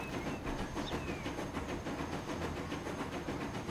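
Steady rumble of a train running in Transport Fever 2, with a continuous low hum and faint rhythmic clicking of wheels over track, constant and fairly quiet with no talk.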